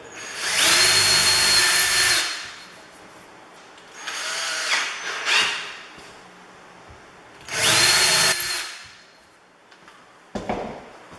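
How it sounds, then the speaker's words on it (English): A power drill whirs in three separate bursts of a couple of seconds each, loud and close, drilling a cabinet for handle installation, with brief handling clatter in the pauses. "you can use it with one drill, one hand drill as well"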